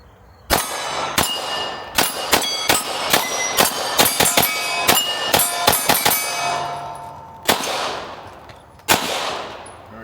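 A Sig P211 GTO pistol fires 115 grain rounds outdoors, a loud, close series of sharp cracks in an irregular string, followed after a pause by two more spaced shots.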